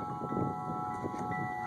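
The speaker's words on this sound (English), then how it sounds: "it's pretty windy out here" Wind blows outdoors at a deck build site, buffeting the microphone with a steady rumbling gust over a faint constant background tone, with no talking.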